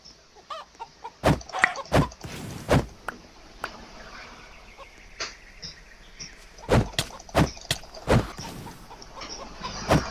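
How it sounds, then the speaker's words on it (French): Scattered video game chicken clucks and squawks, some sharp and loud, arriving in irregular bursts with quieter gaps between. "je vais surtout aller tuer du poulet"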